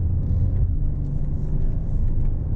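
2019 Audi A7 3.0T Premium Hatchback taken quickly through a corner, heard from inside as a steady low engine and road rumble.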